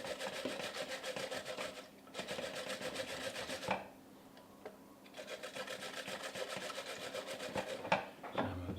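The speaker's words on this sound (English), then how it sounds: "Then we will grate into the mixture some vegetables." Carrot grated into a chickpea omelet mixture: steady rasping strokes in three runs, broken by short pauses, close and fairly loud with no talking.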